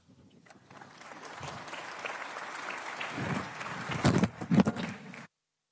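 An audience claps after a panel at a NATO summit defence industry forum in Ankara, steady applause building over several seconds with a few louder close claps near the end before cutting off.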